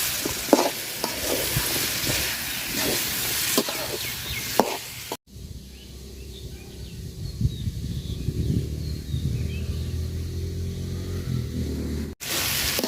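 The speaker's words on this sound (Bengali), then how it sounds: "মশলাটা সুন্দর করে কষায় নিছি তো আলু আর এই যে পুঁই শাকের ডাটা দিয়ে দিলাম" Cubed potatoes and Malabar spinach stems frying in a spiced masala in a pan, a close, steady sizzle with scraping and stirring strokes and a short break partway through, and no talking.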